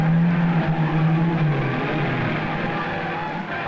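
Ferrari race cars of world champion Ascari's era roar past the spectator stands on an Argentine road course, a loud close engine drone that falls in pitch as one passes, fading into lingering motor noise.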